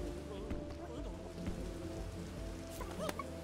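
Steady rain patters in the background of the video game Bugsnax, with a low ambient hum and a few faint tonal chimes over it, fairly quiet overall.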